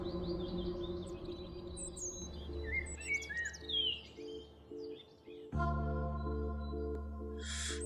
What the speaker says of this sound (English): This blue jay hung out for quite some time.